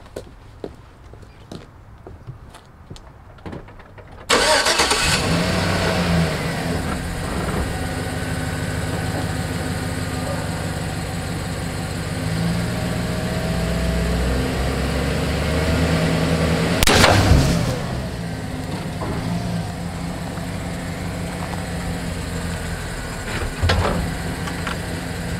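After a few quiet seconds with faint handling noises, a truck engine in four-wheel low kicks on and settles into a steady, rumbling idle. A brief rev swells midway, then the engine keeps droning loudly and close.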